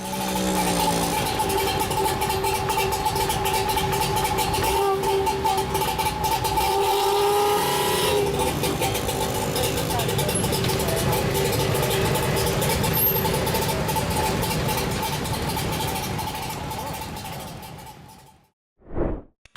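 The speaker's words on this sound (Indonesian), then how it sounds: "Mobil ini sendiri dibekali dengan mesin 2 tak, 992 cc, 3 silinder" A small car with a 992 cc three-cylinder two-stroke engine runs steadily and loudly for most of the stretch with a constant droning tone, then fades out near the end before a brief final burst.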